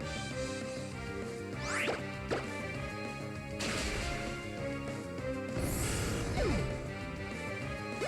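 Rock Smash breaking a boulder in Pokémon Omega Ruby/Alpha Sapphire, a few sharp cracking crash hits over looping game music, moderately loud with no voices.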